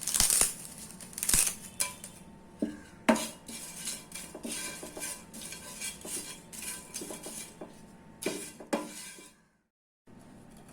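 Whole spices, including rose petals, bay leaf and mace, are dry roasted in a pan for homemade curry masala powder, with irregular metallic clinks, scrapes and rattles of stirring that are close, dry and intermittent before a brief silence.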